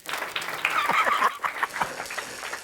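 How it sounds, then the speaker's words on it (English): A group gives Miss Renning a hand at a manufacturing program gathering, a short ragged burst of clapping with some lively shouts and whoops mixed in. "give Miss Renning a hand"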